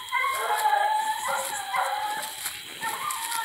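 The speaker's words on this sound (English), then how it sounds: "Heard these dogs in here training." Hunting dogs bay and howl while working a raccoon track during coon dog training, a continuous chorus of high, wavering cries at mid distance with no talk.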